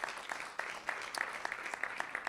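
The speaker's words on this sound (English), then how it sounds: "Please give John a round of applause." Scattered, fairly faint applause from a small audience at a community meeting about an entertainment and sports arena, individual claps distinct and uneven.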